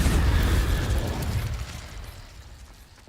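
Incendio fire spell cast in Hogwarts Legacy, a loud whooshing burst with a deep rumble that fades steadily over about three seconds.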